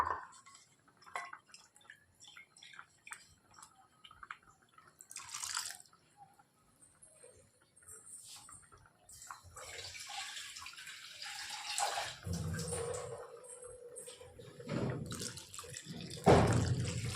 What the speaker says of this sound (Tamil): இப்போ நமக்கு வந்து வேணுங்கிற அளவுக்கு தண்ணி ஊற்றி கொஞ்சம் வந்து ஆட் பண்ணிக்கலாம்